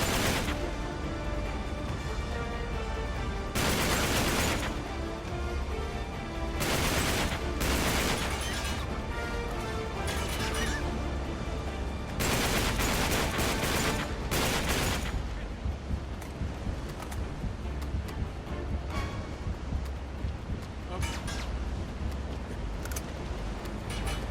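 Dense gunfire and explosive blasts in the action video game Uncharted 3, with close-quarters pistol and sawed-off shotgun fire in repeated loud bursts over a continuous roar of battle.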